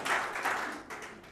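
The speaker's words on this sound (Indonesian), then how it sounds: "Tepuk tangan dulu buat Tuhan kita." A congregation applauds in church during a sermon, a moderate wash of clapping that swells early and then gradually fades.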